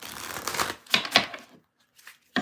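Tarot cards shuffled by hand in quick riffling bursts close to the microphone, followed by a pause of near silence and a final short shuffle.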